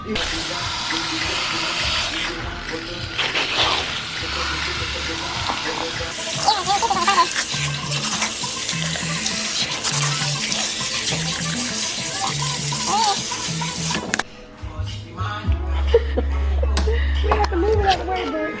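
Water runs steadily from a salon sink tap while hair is rinsed before a dye job, a loud continuous splashing rush with music playing beneath it.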